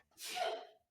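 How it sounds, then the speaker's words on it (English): A single quick sneeze, close and fairly soft, a sharp breathy burst lasting under a second against silence. "again, you sneezed twice."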